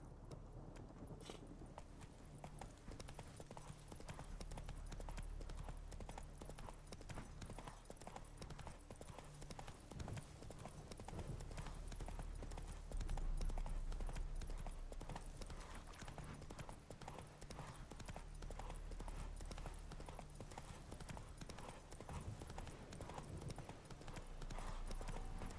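Hooves of Roach, a horse in a video game, clop in a fast, continuous galloping rhythm, close and steady, over a low background hum.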